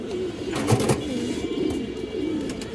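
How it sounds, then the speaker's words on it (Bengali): A pair of silver pigeons cooing nearby, low soft throaty coos repeating over a faint background hum. "খুবই সুন্দর একটা পেয়ার দর্শক সিলভার পেয়ার"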